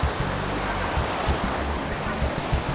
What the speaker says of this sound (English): As you can see, behind me is waterfall number 2